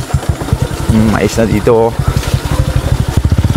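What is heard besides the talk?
motorcycle engine while riding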